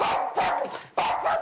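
Sadie, a pet dog, barks in three sharp, loud bursts close to the microphone, each bark cut off by brief pauses.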